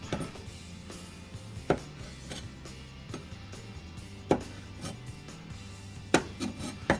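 A knife cutting hot peppers for salsa on a cutting board, with several sharp, close chopping knocks spaced irregularly over a steady low background hum.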